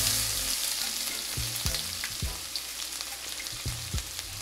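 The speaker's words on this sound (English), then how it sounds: "We're gonna saute the garlic and the ginger until it becomes slightly golden brown." Garlic and ginger sizzle in olive oil with toasted spices on low heat for a butternut squash and sweet potato curry, a steady close hiss broken by several sharp utensil knocks and scrapes against the pan.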